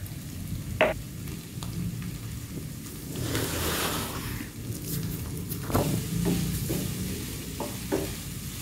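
Spiced fritter mixture with salt, pepper and seasoning stirred and fried in a pan, a steady close sizzle with intermittent scraping stirs and clinks of the utensil, no talking.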